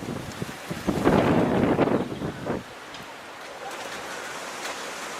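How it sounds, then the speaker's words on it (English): Wind gusting across an allotment garden with rain beginning, a loud blustery rush that swells for about two seconds, drops away, and leaves a faint hiss of wind and patter. "The wind is starting to pick up."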